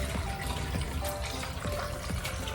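Water pouring into a blender for mango carrot pineapple juice, a continuous splashing trickle with small gurgles and bubbly spikes, close and fairly quiet, with no talking.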